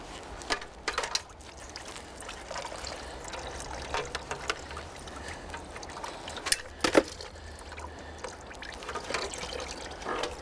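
Coolant draining from the radiator of a Honda CX500 motorcycle, a thin trickling stream of liquid heard close up, with occasional sharp clicks and knocks over it.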